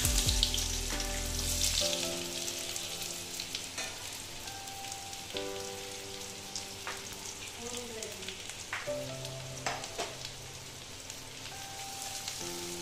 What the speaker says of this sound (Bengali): দেখো পেঁয়াজগুলো এখন আমি অল্প ভেজে নেব